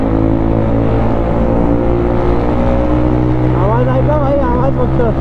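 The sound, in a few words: motorcycle engine echoing inside Katraj tunnel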